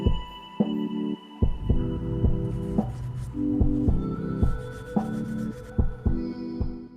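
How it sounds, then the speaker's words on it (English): An old toothbrush scrubs the seams of hunting boots, giving a series of short rhythmic brushing strokes, close and fairly loud, under a steady background hum with no talking. "An old toothbrush is nice for these hard to get to places."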